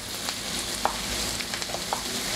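Bell pepper frying in a pan for a vegan moqueca, giving a faint, even hiss of sizzling oil with a few light scrapes and clicks of stirring, close by and without talk.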